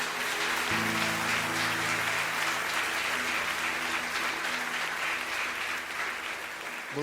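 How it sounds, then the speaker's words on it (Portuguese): A church congregation applauds loudly and steadily for several seconds, a thick continuous wash of clapping with a sustained hum of voices or music beneath it. "Vamos aplaudir o Senhor bem forte"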